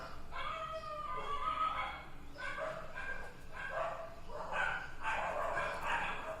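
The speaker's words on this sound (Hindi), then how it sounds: "आपस में कुत्ते लोग लड़ रहे हैं इधर घर के पास में ही" Dogs fighting and barking close by a house, with repeated overlapping yelps and barks in bursts throughout, fairly loud and near.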